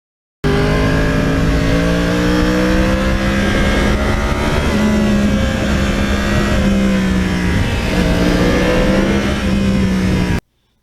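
A 2009 Yamaha R1 crossplane superbike engine hums continuously while riding on back roads, a loud, close droning tone that rises and falls gently with throttle under steady wind rush.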